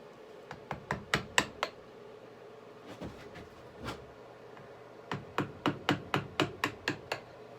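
Homemade hammer made of melted plastic grocery bags striking a workpiece in a shop, a quick burst of sharp taps, a pause with light handling, then another rapid run of about ten close, crisp blows.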